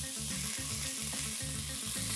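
A sizzling tempering of mustard seeds, curry leaves, slit green chillies and ginger-garlic paste is stirred in a pan, crackling and hissing loudly up close with a rhythmic scraping of the spoon, no voices.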